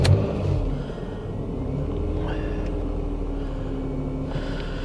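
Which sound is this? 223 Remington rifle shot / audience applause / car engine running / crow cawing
car engine running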